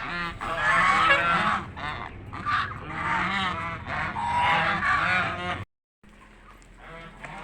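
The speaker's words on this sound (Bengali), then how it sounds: "রাজহাঁসগুলো এগুলো মোটামুটি অনেক বড় বড় হয়ে গেছে," Large geese on a farm honking loudly and continuously, several birds overlapping close by, followed by a brief silence and a quieter stretch.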